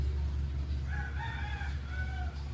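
A Brahma rooster crows from some distance in a drawn-out call that rises and falls. It sits over a low, constant background rumble.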